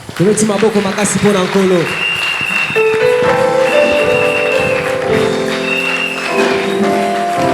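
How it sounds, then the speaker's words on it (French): A church congregation claps for the Lord in steady, sustained applause filling the room, with a voice speaking over it and a sustained musical tone running underneath. "Acclamez pour le Seigneur."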